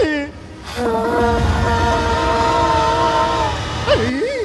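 Old steam engine train sound with a long, loud whistle-like harmonic tone held steady for about three seconds, rising in pitch near the end, over rumbling low noise.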